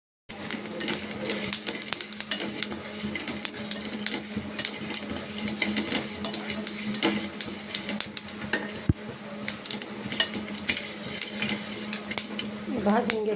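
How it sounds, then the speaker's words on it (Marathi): Almonds dry-roasting in a pan, with steady rattling clatter and metallic scraping as they are stirred and tossed, close and continuous throughout. "ते बदाम आहेत, ते बदाम भाजून घेते"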